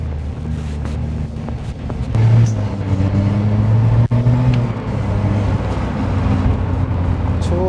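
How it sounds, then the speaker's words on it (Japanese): A Copen, a tiny open-top sports car, accelerates on the road at dusk, its engine a steady close drone that swells in pitch and strength midway, with no talk over it. "まあこんだけ加速してもらえれば、まあまあ普通に走ってて困ることはない かな。"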